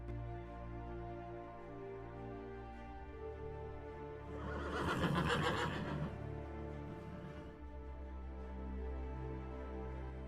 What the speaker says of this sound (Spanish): con manadas de caballos pastando libremente bajo el cielo abierto